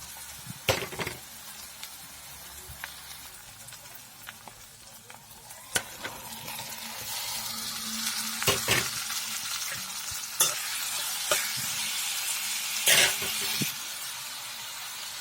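Onion paste and tomato paste frying in oil for a fish curry, with a steady sizzle and recurring stirring scrapes that get louder and brighter as the paste cooks.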